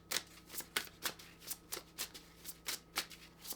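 Witches Oracle cards being shuffled in a rapid, regular riffle of crisp slaps, about three per second, close and moderately quiet with no voices.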